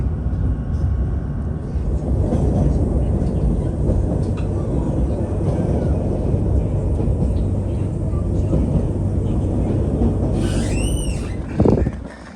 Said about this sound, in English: On the train from Chamonix to Les Houches